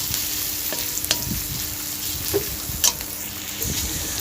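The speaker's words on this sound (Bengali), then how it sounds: "সিলিমে দিয়ে আমি এই পেঁয়াজটা ভেজে নেব" Onions fry gently in a pan over low heat, a soft continuous sizzle broken by a few sharp ticks and scrapes of stirring, close and without talk.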